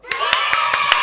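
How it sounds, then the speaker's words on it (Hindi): Five sharp, evenly spaced hand claps ring out close and loud over a steady background hum, each one a crisp single slap. "तालियां बजाओ"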